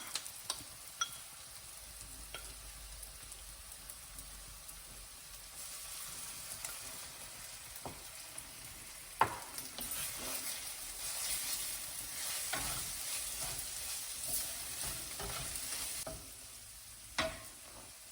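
Ginger garlic paste frying with onions in a pan, a soft steady sizzle with occasional clicks and stirring scrapes. It grows livelier in the middle with no voices.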